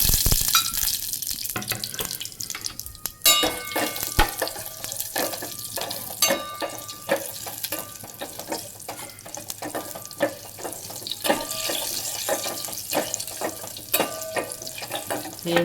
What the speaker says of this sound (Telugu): నూనె వేడైంది. మనం ఆవాలు, జీలకర్ర అండ్ మినపప్పు వేసుకోవాలి.